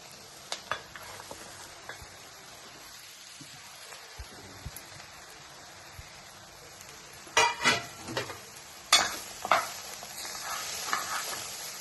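Fresh drumstick leaves go into hot tempering oil for a drumstick-leaf bassaru. A quiet stretch with faint clinks gives way to two loud, crackling bursts of sizzling close by, which then settle into a softer fry. No one speaks.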